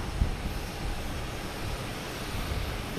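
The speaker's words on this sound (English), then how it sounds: "The twin turboprop. I love this plane." A Porter twin turboprop airliner arrives at Boston Logan Airport, its engines giving a continuous broadband roar that stays steady and moderately distant throughout, with no talking.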